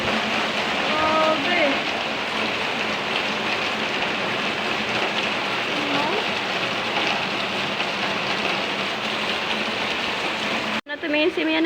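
Heavy rain pours in a dense, steady hiss with patter on surfaces and a window, loud and continuous, briefly cutting out near the end, in Makati.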